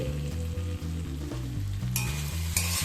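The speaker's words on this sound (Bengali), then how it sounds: "একবার নাড়াচাড়া করে নেব।" A pan of pumpkin curry with hilsa fish head being stirred as it cooks, a continuous sizzle with rhythmic scraping strokes of a spatula and a few brighter clinks near the end, no voices.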